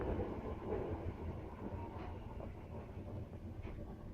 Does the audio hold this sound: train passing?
yes